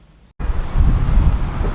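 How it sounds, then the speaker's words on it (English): Loud rumbling wind buffeting a microphone, starting abruptly after a brief quiet moment and gusting steadily. "It is super windy out here too"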